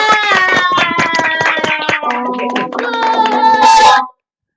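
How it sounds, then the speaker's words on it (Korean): Children from a local children's center clap and cheer loudly at a smart mobility fair graduation ceremony, shrill voices and hands mixing close up before stopping abruptly. "박수"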